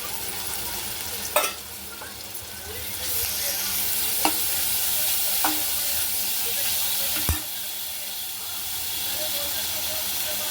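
Tomato fries in a pan for egg curry with a steady, soft hiss and sizzle. A few sharp clicks from stirring break through the quiet, even sound.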